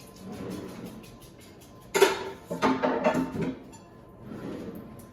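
Metal pans knocked and clattered on a stovetop, a loud burst of clanking and scraping in the middle, with softer handling noises at the start and end.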